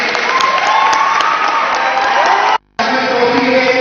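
A crowd at a Gayatri Parivar gathering claps and cheers loudly, a dense continuous roar with brief dropout, voices shouting within it.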